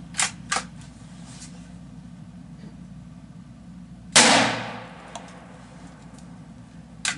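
A .22 Magnum rifle fires a single sharp, loud shot of 33 grain ammunition over a chronograph outdoors, with a short decaying tail; a few faint clicks come before and after.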